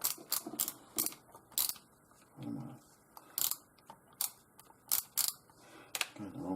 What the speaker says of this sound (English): we'll screw those back in